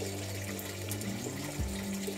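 Water pours steadily out of an outflow pipe from an aquaponic tilapia tank, making a continuous close splashing rush with a low humming undertone.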